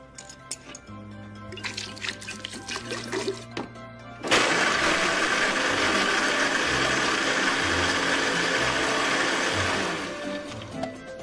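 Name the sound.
blender blending nuts, honey and water into milk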